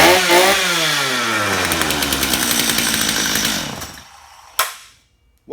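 Flooded chainsaw started with the choke off and trigger held wide open, roaring to life loudly up close with a steady buzzing idle, then cutting out abruptly, followed by a sharp click and silence.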